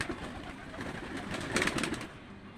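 A flock of pigeons cooing together at close range, a dense, continuous murmur of soft throaty calls under steady background noise, growing slightly busier partway through.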